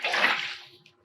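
Water is placed in the video game Minecraft, a single whooshing splash that swells quickly and fades over about a second, close and clear with no talk.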